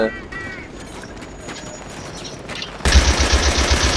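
Battlefield 3 co-op gunfire, quieter mixed game sound at first, then a loud, close rapid burst of shots near the end, with a voice talking over the start.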